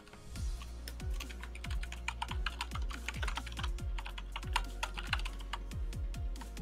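Quick typing on a computer keyboard, a run of sharp keystroke clicks, near and steady, with no talk over it.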